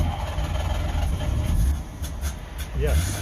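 A two-stroke engine turns over and runs with a rough, rumbling drone at close range, briefly dipping before picking up again, with a short spoken word over it.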